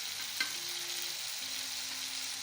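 Tomatoes frying in a pan over medium heat give a steady, soft sizzle with faint scraping stirs and a single brief clink early on; no voices are heard.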